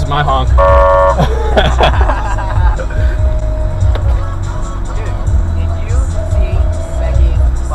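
A car horn gives one brief, loud toot early on, amid constant road and engine noise inside a moving car, with people talking throughout.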